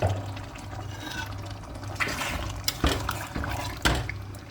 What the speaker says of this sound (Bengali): আমার ব্লেন্ডারের ইয়াটা ধুইয়া একটু পানি দিব